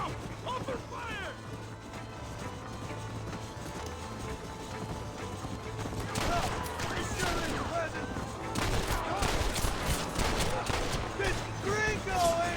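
Gunfire in the Western video game Red Dead Redemption, a burst of rapid shots that grows denser in the second half over game ambience, with voices shouting during the fight.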